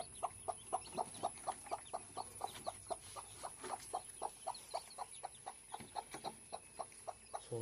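A hen clucks in a steady, rhythmic series of short, evenly spaced calls, close and clear, with faint higher peeps from chicks in the background and no talking.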